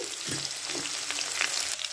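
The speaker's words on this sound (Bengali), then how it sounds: "আলুগুলোকে একটু লাল লাল করে ভেজে নেব" Potato pieces dusted with turmeric frying in salted oil in a pan, a steady close hiss of sizzling with faint stirring scrapes throughout.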